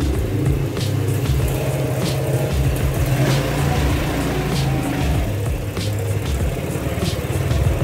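A Vespa GTS 155 scooter engine runs steadily and pulls away, a continuous buzzing hum with faint rattles throughout.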